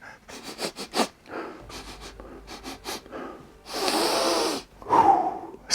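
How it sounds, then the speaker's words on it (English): A person sniffing a board game book, giving a series of short, quick sniffs followed by a couple of longer, breathy inhales, close and fairly quiet, with no talking. "let's give this a sniff test"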